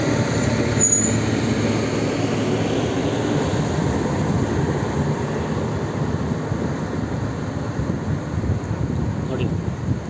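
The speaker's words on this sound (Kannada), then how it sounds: "ಐದು ನಿಮಿಷ ಆಲ್ಟ್ ಆದಮೇಲೆ ನಮ್ಮ ಟ್ರೈನ್ ಬಿಜಾಪುರ ಬಿಟ್ಟಿದೆ" Basava Express train leaving Bijapur station, a steady loud rumble of rolling carriages and wheels across the whole stretch, with faint voices mixed in.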